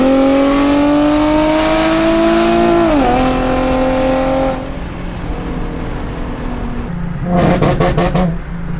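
Very loud exhaust roar from a Nissan 370Z as the engine revs, climbing steadily in pitch before dropping back to a rumbling idle. Near the end comes a brief burst of rapid rhythmic pulses.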